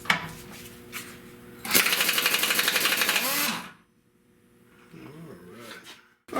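A bolt is taken out of the frame of a 1970 Buick Wildcat with one loud, rapid rattling burst lasting about two seconds, close by, followed by quieter handling sounds.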